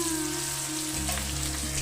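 Onions fry in a pan with a soft steady sizzle, a low hum running underneath, brief and close, with no voices.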